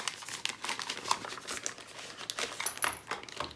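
A resealable plastic pouch holding a diamond-painting toolkit is handled, giving a steady run of close, crisp crinkles and rustles with a few small clicks throughout.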